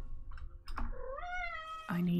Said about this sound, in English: I have 2 cats, and Hermes is the one that's the most vocal.